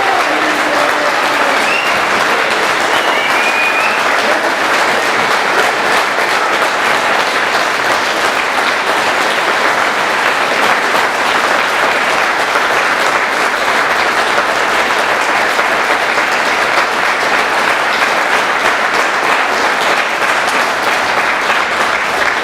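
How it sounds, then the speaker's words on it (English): A large crowd at an anti-NATO, anti-war street rally applauds for Julian Assange with loud, sustained, even clapping that holds steady throughout. "A big round of applause for Julian Assange."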